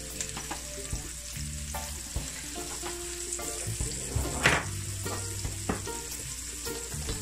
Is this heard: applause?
no